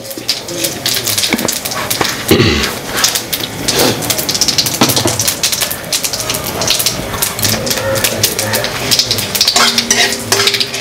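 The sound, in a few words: cumin seeds sizzling in hot oil for tempering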